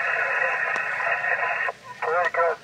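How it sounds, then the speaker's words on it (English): A ham radio receiver picks up a voice transmission through buzzy noise. Distorted speech comes through loud and close, then breaks off and returns briefly in warbling bursts. "I've just got a bit of noise coming through, which is wiping out even good signals"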